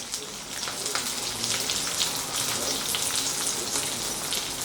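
Diced capsicum and onion frying with ginger and garlic in a pan, giving a steady, dense sizzle with fine crackling pops throughout, fairly close and continuous, with no one talking.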